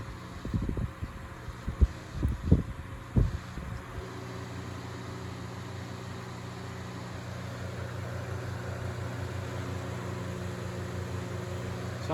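A Duracraft DT-70 turbo fan from 2004 switched up to its high setting runs as a steady, close, broadband whoosh with a low motor hum and slight vibration, after a few handling knocks at the start.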